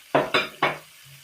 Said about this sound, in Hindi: अब इस मसाले को हम भूनते हैं